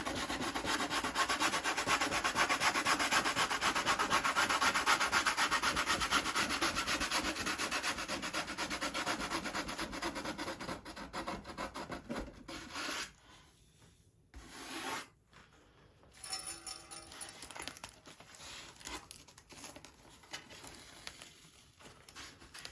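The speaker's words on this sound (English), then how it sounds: "I take the 80 grit and I'll go along the edge and just scratch it up real good." Steady, close scratching of 80 grit sandpaper scuffing a fiberglass edge on a .60 size P-40E Warhawk model, continuous at first, then fading into softer intermittent rubs with pauses.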